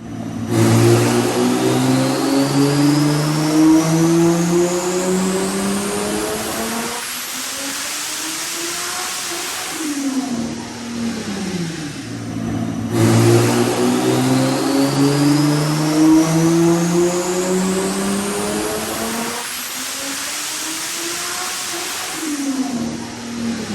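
A heavily tuned BMW F80 M3 making over 1,200 wheel horsepower on a dyno roars through two full-throttle pulls, each rising steadily in pitch before cutting off sharply and winding down, loud and close throughout.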